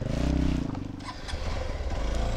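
A Hero Xpulse Rally Edition motorcycle climbs a steep uphill stretch. Its engine throbs close and loud, eases briefly, then pulls again, with some gravelly scraping from the road.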